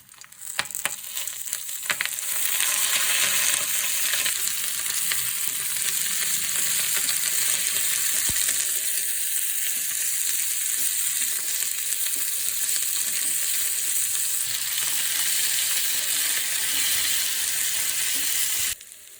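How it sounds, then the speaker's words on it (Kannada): Red chilies roast in hot oil for a red chili chutney, a loud, dense, continuous sizzle that swells in the first seconds and holds steady before cutting off abruptly, with no one speaking. "ಇವಾಗ ಚೆನ್ನಾಗಿ ಹುರ್ಕೋಬೇಕು"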